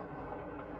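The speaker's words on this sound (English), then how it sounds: "the train is approaching a station" Moving passenger train from the 1950s with dining and lunch cars, heard as a steady, continuous low rumble of the rolling cars and rails, close and even throughout.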